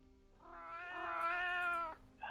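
A person's voice imitates a cat's meow in one drawn-out, rising and falling call, close and fairly quiet, alone with no other talk.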